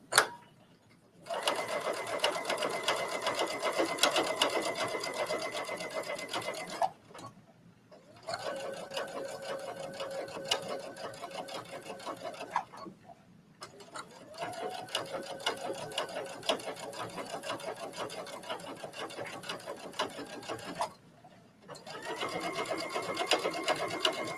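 A domestic sewing machine stitches a seam on a trench coat at a 4.0 stitch length, running in four long steady whirring bursts separated by short pauses, close and clear.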